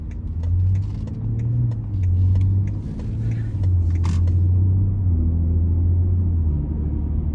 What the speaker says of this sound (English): take this 2019 X3 M40i out on the road for a quick test drive